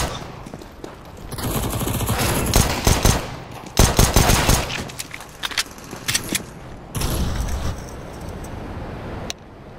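Gunfire rattles on the Dust2 map in Counter-Strike: loud automatic bursts and sharp shots in clustered volleys, broken by brief quieter gaps, over a steady background rumble.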